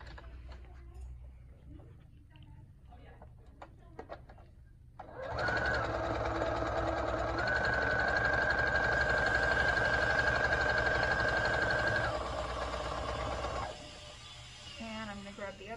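A sewing machine stitches fabric for a face mask, its motor whirring in one sustained, loud run of several seconds after a few quiet clicks and handling noises, then winding down.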